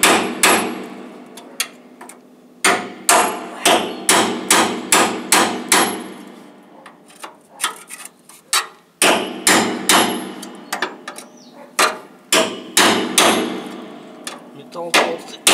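Loud, rapid metallic hammer blows chop through thick double-layered metal on a GAZ M-20 Pobeda car, striking in quick bursts with brief pauses between, ringing sharply up close.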